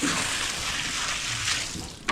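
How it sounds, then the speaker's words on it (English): Water tipped out of calf buckets and rinsed on a farm, a steady broad splashing and pouring wash for about two seconds, close and fairly loud, ending in a short sharp slosh. "So I'll rinse them out."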